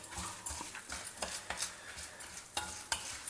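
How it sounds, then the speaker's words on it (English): Dals and dry red chillies being stirred and sautéed in a pan over a low flame for a South Indian coconut chutney: a steady soft sizzle broken by repeated scraping strokes of a spoon. "Now add in your dry red chillis and saute them also till they also are well fried."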